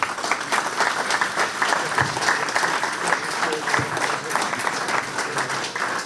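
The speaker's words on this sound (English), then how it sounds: "we have a round of applause for our chairman, Mr. Simon Gage." Audience at a Rochdale AFC fans' forum applauding the club chairman, a sustained dense round of clapping from a roomful of people, loud and close, lasting several seconds.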